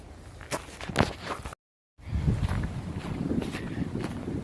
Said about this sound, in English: the wind's picking up again, as you can hear